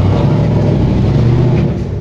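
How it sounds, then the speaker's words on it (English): Heavy trucks and other traffic passing outside make a loud, continuous low engine rumble with steady road noise, sustained throughout. "In case y'all hear, there's a bunch of trucks and everything."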